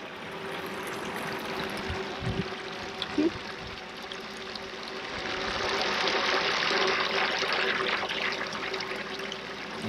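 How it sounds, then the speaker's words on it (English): Water from a fire hydrant pouring into a tank, a continuous rushing, trickling stream with a brief knock partway through and the flow growing fuller and louder toward the end. "the water will fill up my tank"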